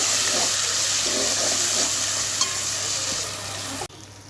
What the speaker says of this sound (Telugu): ఒక స్పూన్ అల్లం వెల్లుల్లి పేస్ట్ వేసుకున్నాను ఇది పచ్చివాసన పోయే వరకు ఫ్రై చేసుకుంటానండి